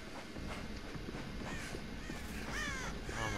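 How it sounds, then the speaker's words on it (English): Crows caw in Dead by Daylight, a few rasping calls near the end over a dense, noisy game ambience of rustling and low rumble. "Crows."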